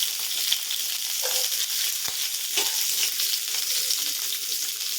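About two hundred grams of chopped small onions (shallots) fry in hot oil for an onion chutney, a dense, steady close sizzle with a few faint stirring knocks, no talking.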